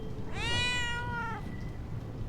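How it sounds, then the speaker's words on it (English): A single drawn-out cat meow in the video game The Darkest Files, fairly faint and alone over a low background hum. "Meow."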